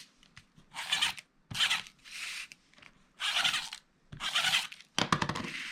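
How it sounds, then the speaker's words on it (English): Tape runner pulling and pressing adhesive tape onto mitered paper ends for a craft notepad holder, a series of six or seven short close-up ripping, scraping bursts separated by brief pauses. "I'll use my tape runner to place some tape on these ends."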